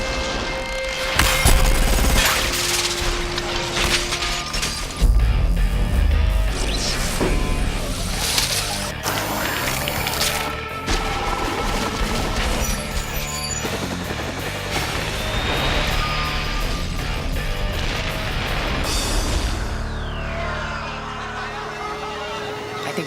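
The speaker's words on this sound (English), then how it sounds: "We wanted the glass to explode in sort of an ever-expanding circle" Glass shatters and explodes outward in an ever-expanding circle as a film effect, a dense, loud, sustained cascade of breaking and tinkling shards over more than twenty seconds, with bursts of heavier crashing and a rumbling low undertone.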